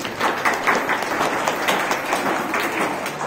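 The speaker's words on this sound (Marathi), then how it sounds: "आपण सर्वांनी गुरुवाईंचं टाळ्या वाजून या ठिकाणी अभिनंदन करावं" An audience clapping together at a gathering, a dense steady patter of many hands, moderately close and continuous for a few seconds.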